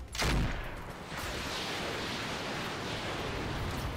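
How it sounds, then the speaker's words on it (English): A mech firing all of its weapons at once in the Roguetech video game, heard as a sharp burst that gives way to a dense, sustained rushing roar of fire with no talk. "And I'm gonna fire everything on this guy."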